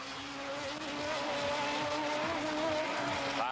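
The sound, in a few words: race cars racing past, Mazda RX3 at Bushy Park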